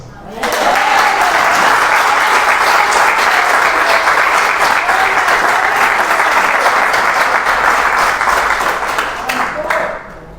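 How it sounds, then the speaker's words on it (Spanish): A church congregation at a Sunday meeting breaks into sustained applause, a loud, full roar of many clapping hands that starts abruptly, holds steady for about ten seconds, then fades out. "yo creo que se merece un aplauso"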